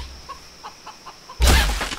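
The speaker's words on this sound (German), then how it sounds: "Ich mag das Huhn abschießen." A chicken clucks in the video game Hunted, giving a few soft, spaced clucks before a sudden loud burst cuts in and fades away.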